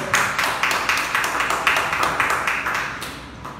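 A church congregation claps in praise during a Sunday service, a brisk rhythmic run of hand claps repeating roughly every third of a second, fading slightly toward the end.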